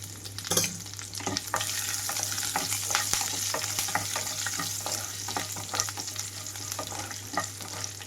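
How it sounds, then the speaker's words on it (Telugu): Garlic and curry leaves crackle and sizzle in hot oil as a tempering, with scattered pops and the scrape of a spoon stirring, over a low steady hum. "ఇక్కడ తాలింపు అంతా వేగిపోయింది"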